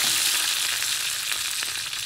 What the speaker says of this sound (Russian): Вот буквально минутку колбаса уже начинает обжариваться.